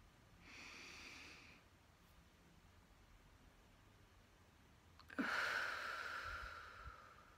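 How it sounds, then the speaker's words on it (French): A deep breath drawn in through the nose during a calming breathing exercise: a short soft inhale early, a quiet pause, then a louder, longer rushing intake near the end, close and alone. "Et puis, de reprendre une bonne inspiration"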